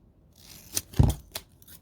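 Scissors snip through a doubled-over, flattened strip of duct tape for roller derby skate toe guards, a few short crisp cuts close by with a sticky crunch, no talking.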